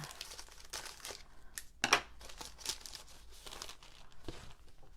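Scissors cut through a gold foil sheet of thank-you postage stamps in a quiet room, making crisp crinkling and a sharp snip near the middle, close by and faint overall.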